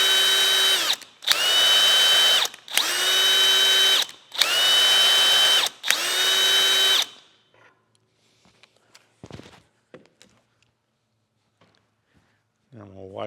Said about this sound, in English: I'm reversing my drill.